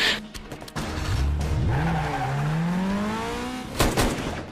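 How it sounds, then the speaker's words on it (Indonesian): Car chase in the film KL Gangster, with a loud, drawn-out tire squeal that rises and bends in pitch over engine noise, framed by short impact bursts at the start and end. "Sedangkan si Malik pun langsung mengejar si Tai Long menggunakan mobil."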